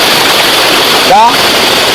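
The Kakkidikkal waterfall rushes with a loud, constant broadband roar of water, close by, while a short voice-like sound rises over it briefly midway.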